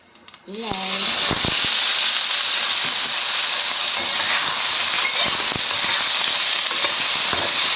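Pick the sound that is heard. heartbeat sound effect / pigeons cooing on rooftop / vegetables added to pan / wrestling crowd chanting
vegetables added to pan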